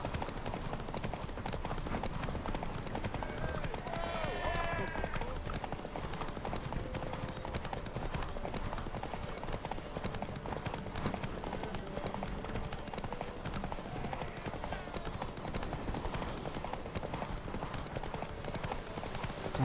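Roach, Geralt's horse in The Witcher 3: Wild Hunt, gallops with a steady rapid clip-clop of hooves, fairly faint and continuous against game ambience, with occasional snorts and no talking.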